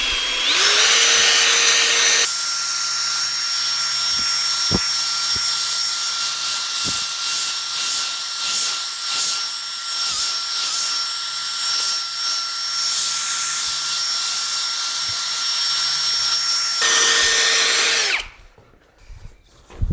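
A power drill spins a polishing pad against a faded plastic headlight lens, whining loudly and steadily for about fifteen seconds with slight fluctuations, then winding down and stopping.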